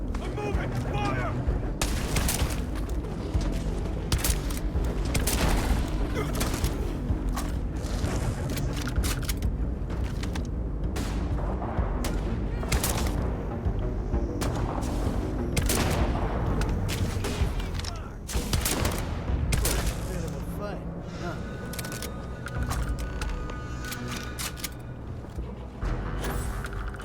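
Repeated gunshots ring out through Starfield video game combat, sharp bursts and booms scattered across a long firefight with brief lulls, and voices speak intermittently amid the shooting.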